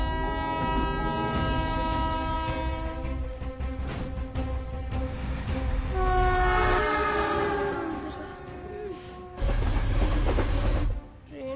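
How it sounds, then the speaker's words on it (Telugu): A train thunders past at close range, blasting its horn over a steady heavy rumble and rattle of the cars, with no voices, before the noise cuts off abruptly near the end. "ట్రైన్ వచ్చేటప్పుడు కళ్ళు కాదురా, చెవులు మూసుకోవాలి."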